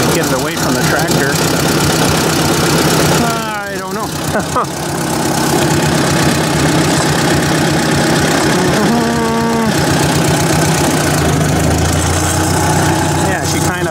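Ford 800 tractor engine running loud and close, a steady chugging idle with rough knocking, while a voice speaks briefly over it.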